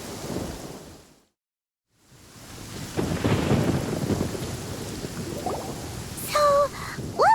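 Rain and rolling thunder in the Genshin Impact video game, a heavy, steady downpour broken by a brief quiet gap, with low thunder rumbling through and a few short electronic tones near the end.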